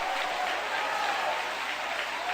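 A church congregation claps together with mixed shouts of praise, a dense, even wash of applause lasting a couple of seconds.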